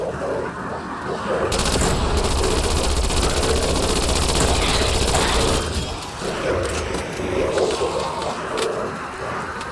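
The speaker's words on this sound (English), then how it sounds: "Anyways, shotgun. This thing's full auto." Full-auto shotgun blasting in Black Ops Cold War Zombies, a dense, loud stream of rapid shots with mechanical clatter running nearly the whole time, briefly easing before resuming.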